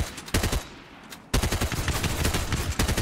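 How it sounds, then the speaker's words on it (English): A bot in Fortnite fires at the player in rapid bursts of gunshots, with a short lull before a long, continuous volley of close, loud shots. "I hate that the bot doesn't stop shooting."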